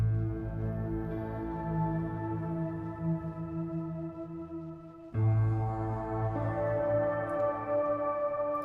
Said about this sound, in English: On the piano, I switched on a little bit of shimmer.